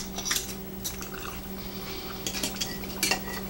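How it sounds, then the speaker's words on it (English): Knife working through beef short ribs on a board, scattered light scraping clicks and taps at close range against a low steady background hum. "Cut my beautiful ribs."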